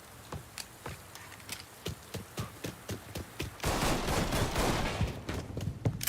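Gunfire from the video game Mafia III cracks out in a rhythmic series of single shots and then becomes a dense, continuous fusillade of overlapping rounds, moderately loud, with no speech.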